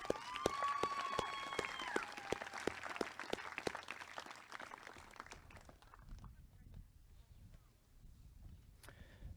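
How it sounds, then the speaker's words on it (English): A graduation crowd applauds for a graduate with brisk clapping and some cheering up front, then it thins into quieter scattered claps and room noise. "Another round of applause for Ariana."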